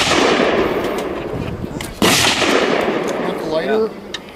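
A homemade bowling ball cannon fires a bowling ball with a single loud, sharp blast partway through, over rumbling outdoor noise that carries on afterward.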